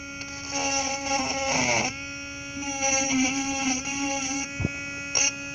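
A small Dremel rotary tool cleaning a fuse box on a 1966–1967 El Camino Chevelle gives off a steady high-pitched motor whine. The whine rises and dips in pitch as the tool works, then cuts off near the end.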